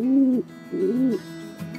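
A feral pigeon coos twice up close, deep rounded notes rising and falling, followed by a quieter murmur.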